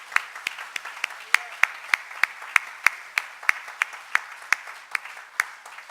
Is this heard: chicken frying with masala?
no